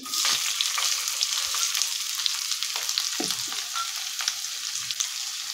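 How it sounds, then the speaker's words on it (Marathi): Finely chopped onion sautés in a pan over medium gas, giving a steady, close hiss of frying with light stirring scrapes scattered throughout and no talking. "कांदा आपल्याला चांगला परतून घ्यायचा आहे।"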